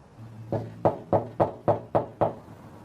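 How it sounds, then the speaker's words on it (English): Sheriffs knocking on a door, seven firm evenly spaced raps heard close and clear, with no talk over them. "Their knocking has raised one of the occupants."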